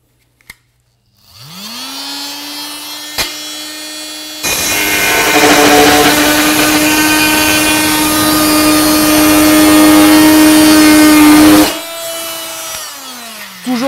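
A Fein Multimaster FMM350Q oscillating multi-tool spins up to a steady high buzz, then grows louder and harsher as it cuts into wood for several seconds before easing back to a lighter whine and stopping.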